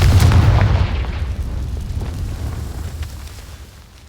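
A Confringo spell blast in a Harry Potter video game, a loud booming explosion that hits hard at the start and rolls into a rumbling tail before fading over about four seconds.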